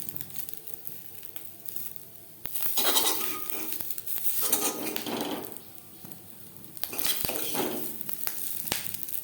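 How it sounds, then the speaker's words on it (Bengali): Fried fish roe lifted from a hot pan into a bowl, with scraping and clinking of utensil against metal coming in several bursts over a faint background sizzle. "ডিম ভাজা হয়ে গেছে, একটা পাত্রে উঠিয়ে নেব।"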